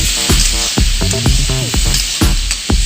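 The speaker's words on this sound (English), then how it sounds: "Add the peas and the corn and stir." Peas and corn are stirred in a hot skillet, giving a steady, close sizzle with scraping stirs, under a loud tonal background.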